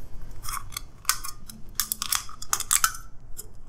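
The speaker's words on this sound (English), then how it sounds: "Take your scissors, cutting up," Scissors snipping through a thin aluminum can, a run of sharp crunchy cuts at an uneven pace, close by, no talking.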